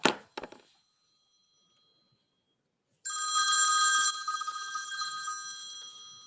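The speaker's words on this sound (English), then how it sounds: "his ringtone on his cell phone" Cell phone ringtone going off during a committee meeting, a bright electronic tune ringing alone for a few seconds after a quiet pause, preceded by a couple of faint knocks.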